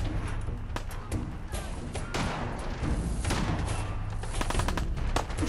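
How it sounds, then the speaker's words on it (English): Gunfire in Fallout 4, a busy string of shots and sharp cracks over dense game ambience, scattered through the stretch with a few clustered bursts near the end, fairly loud throughout. "Shooting up at that person."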